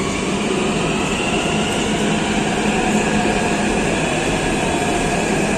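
A Hyderabad metro train pulls into the station with a loud, continuous rumbling roar and a high whine, steady and near throughout.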